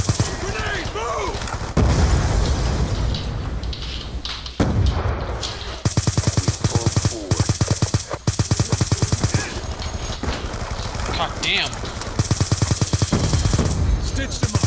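Call of Duty Black Ops 2 multiplayer on the Nuketown 2025 map: loud, near-continuous automatic gunfire with heavy thumping blasts from a grenade explosion, while players talk over the din.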